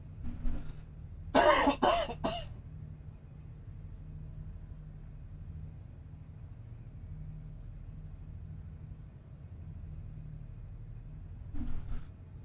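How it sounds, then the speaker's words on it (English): A person with a lingering, weeks-long cough gives a short cluster of harsh, barking coughs close to the mic, followed by a long quiet stretch of low engine-like rumble and one more brief cough near the end. "It's supposedly a 100-day cough, which I've had it 10 and it doesn't seem to be going anywhere."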